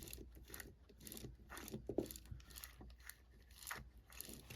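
Gears of a Marx 1666 toy locomotive are turned slowly by hand, metal on plastic, giving soft, irregular ratcheting clicks and grinding ticks up close at a low level.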